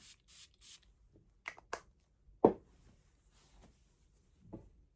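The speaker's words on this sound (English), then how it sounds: "let me spray the old one on this side" Three short hissing bursts of a perfume spray bottle (Moschino Toy Boy) at the start, followed by quiet handling clicks and taps of a bottle nearby.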